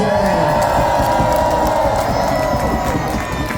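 A large outdoor crowd at a lumberjack show cheers and whoops continuously, loud and close, with scattered shouts rising above the roar.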